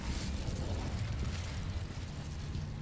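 An Incendio fire spell cast in the video game Hogwarts Legacy, a loud rushing whoosh of flame with a booming rumble that carries steadily for a few seconds.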